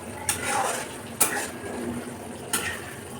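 A spoon works through doi potol curry in a pot, striking the metal in three sharp clinks spaced about a second apart over a steady low simmering hiss.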